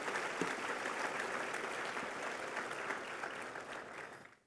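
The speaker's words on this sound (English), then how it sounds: "Let's have a round of applause for Chaplain Ussett, and congratulations on" Steady applause from a sizable audience, sustained and fairly loud for several seconds before cutting off abruptly at the end.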